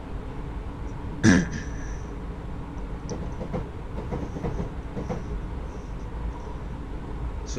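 A simulated Class 314 electric train rolls along the rails in Train Simulator 2021 with a steady low rumble and irregular clickety-clack from the wheels, plus one sharp clunk early on.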